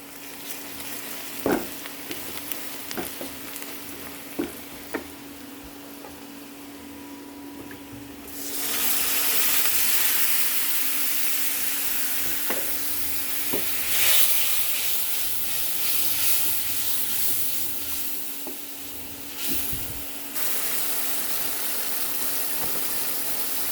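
Small fish frying in oil seasoned with chili powder and coriander powder, a steady loud sizzle and hiss that swells after a few quiet seconds with scattered clicks of stirring, no talking.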